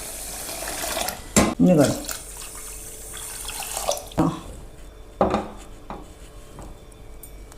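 Water is poured onto about three quarters of a kilo of sugar in a pot for gulab jamun syrup, heard as a few short splashing bursts with light clinks against a quiet kitchen background, and a voice speaks briefly.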